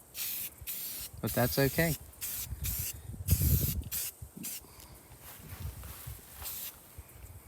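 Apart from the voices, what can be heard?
aerosol spray paint being sprayed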